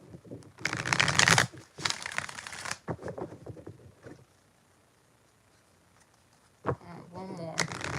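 Tarot cards are riffled close up in two quick, crisp bursts, then handled more softly and fall nearly silent before another short shuffle near the end.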